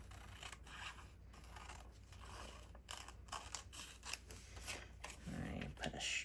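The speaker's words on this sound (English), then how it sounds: "We're gonna cut this off." Scissors cutting paper for journal prep, a series of close snips and crisp paper rustles in an irregular rhythm, with soft talk underneath.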